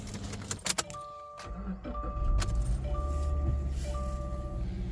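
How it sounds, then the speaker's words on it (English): A Subaru Crosstrek with 185,000 km drives along with a steady low road rumble and a faint whining noise from a front wheel, plus some light rattling inside the cabin. "We got a weird noise coming in on this side of the wheel"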